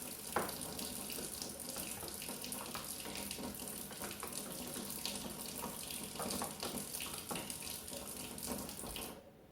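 Tap water pours steadily into a container of lumpy homemade fly bait, a continuous splashing, gurgling stream at close range that runs unbroken for about nine seconds before stopping abruptly.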